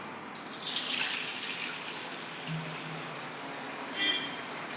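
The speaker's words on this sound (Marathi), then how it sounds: "हे तांदळावरचं पाणी काढून टाकायचं आहे" Water pours and splashes steadily as soaking water is drained off soaked rice and lentils into a container, with faint clinks near the end.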